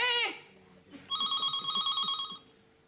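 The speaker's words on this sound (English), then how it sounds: "The phone." A telephone bell rings in a short trilling burst indoors, following a brief spoken word and heard clearly but moderately quiet.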